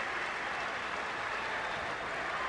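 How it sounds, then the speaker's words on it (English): Crowd at a 1995 NBA playoff game between the Knicks and Celtics gives the Celtics an ovation, a dense, even wash of distant applause and cheering that holds steady throughout. "the crowd gives the Celtics an ovation"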